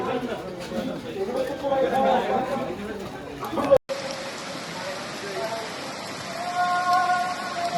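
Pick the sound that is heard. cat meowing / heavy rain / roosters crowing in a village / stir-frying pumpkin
heavy rain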